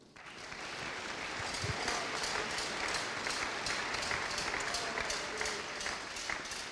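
Congregation applause at a church service, a steady dense wash of clapping that swells quickly and holds for several seconds, mid-distance and fairly faint.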